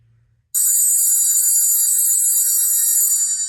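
A phone rings continuously and loudly for an unanswered scam call, its bright trilling electronic bell starting abruptly after a brief quiet and running on unbroken.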